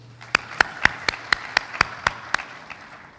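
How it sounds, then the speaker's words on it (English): Scattered audience clapping at the Kenya Water and Sanitation International Conference and Exhibition 2023 in Mombasa, about ten sharp separate claps in a loose, slowing rhythm over a low steady hum, with no voices. "I think they both deserve a round of applause"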